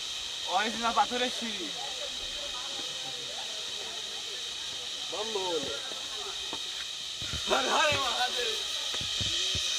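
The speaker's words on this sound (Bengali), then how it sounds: "এগুলো কি পোকার সাউন্ড হচ্ছে গাইজ" A steady high-pitched insect buzz on Chandranath hill in Sitakunda, continuous throughout like a hissing drone, with people talking intermittently over it.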